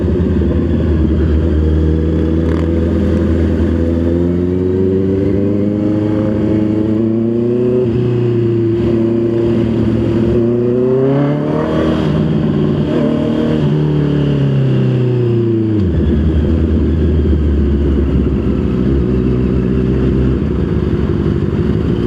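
A Honda CB650 motorcycle engine revving while riding, loud and close, its pitch climbing and falling through several sweeps over about twenty seconds with wind rush, and no one speaking.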